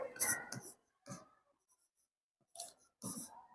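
Writing by hand on paper while working a physics problem, scratchy pen strokes in several short bursts separated by silences, close and fairly quiet.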